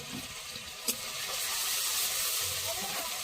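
Spices with green chillies, chilli powder and salt fry in a pan for a Bok Thurina fish recipe, giving a steady close sizzle and hiss with a soft clink near the start.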